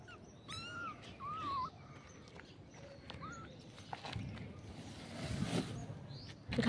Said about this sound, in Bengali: জেসি আপনাদের বিড়াল